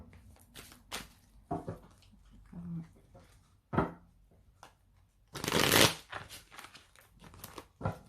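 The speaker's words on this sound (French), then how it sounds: "on prend le deuxième tarot. On va mettre une deuxième carte." Tarot cards are shuffled and drawn close up: scattered soft flicks and slides, then a loud riffling burst of shuffling in the middle, with occasional quiet French speech.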